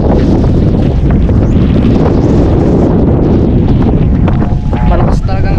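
Strong wind buffets the microphone outdoors near a bus terminal, a loud continuous low roar and rumble that never lets up, with a voice faintly present beneath it.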